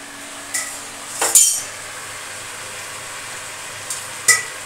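Dishes and utensils clink a few times in a quiet home kitchen, as breakfast plates are carried in. The metallic clatters are brief and scattered over a low background hush, with no talking.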